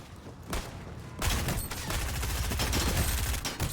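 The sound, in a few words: gunshots in Fortnite video game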